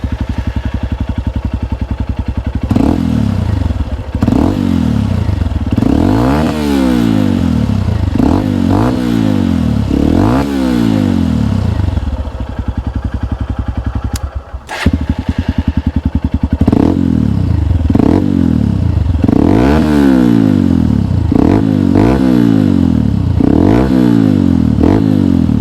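A Honda XR150L dirt bike fitted with a Yoshimura exhaust revs again and again, loud and close, each throttle blip rising and falling in a repeating pattern, with a short dip midway.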